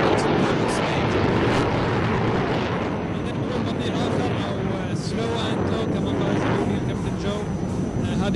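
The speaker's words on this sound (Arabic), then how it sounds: "the aircraft has settled down into a slow, slow pass" Military jet aircraft making a slow pass at the Dubai Air Show, a loud continuous roar of engine noise under a commentator's talk.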